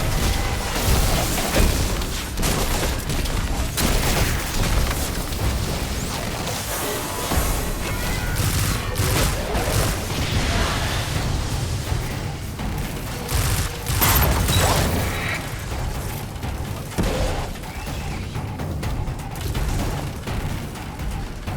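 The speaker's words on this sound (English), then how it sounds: "Shoot out all the giant crystal things." Gunfire shoots out giant crystals in Destiny 2 on PC, with a steady stream of shots mixed with crashing, booming impacts and mechanical clatter for over twenty seconds, and no talking.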